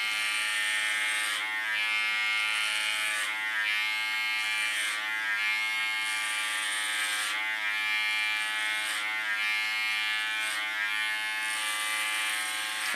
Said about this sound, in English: now I put a comb on my clipper protection, because I have it on 3 millimeters